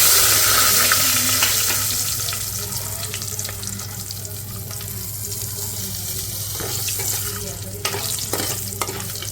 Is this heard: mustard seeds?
yes